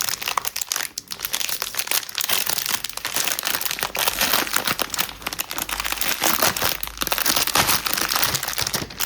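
Crinkly plastic packaging of a Feelook Art paint-by-numbers kit is opened by hand, producing continuous close crackling and crumpling in irregular bursts, fairly soft overall with no talking.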